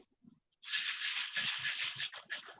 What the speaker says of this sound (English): Ice in a shaker.